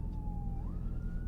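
An ambulance siren sounds from a distance as a steady high tone that rises in pitch partway through, heard faintly over a low rumble of road traffic.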